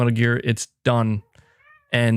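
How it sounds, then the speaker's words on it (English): Pet cats fighting in a room, a few short yowling meow-like cries heard in a brief pause between bursts of close speech. "my cats are now fighting"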